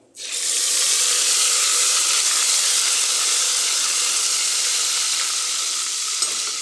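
Ginger and garlic sizzle in hot frying oil for a Tamil-style chicken curry, a loud, steady hiss that bursts in at once and holds evenly throughout, with no talking.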